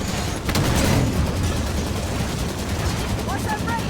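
Gunfire rattles against a Scorpion tank in the video game Halo 5 Guardians, a loud close burst at the start trailing into rumbling battle noise, with faint radio-like tones near the end.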